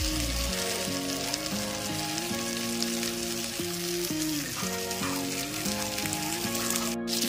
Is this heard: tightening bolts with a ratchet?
no